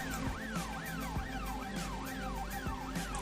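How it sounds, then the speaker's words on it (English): An ambulance siren in the video game This Is the Police wails in a steady rising-and-falling cycle, repeating about five times, moderately loud over a low hum and occasional soft thuds. "an ambulance is on the way."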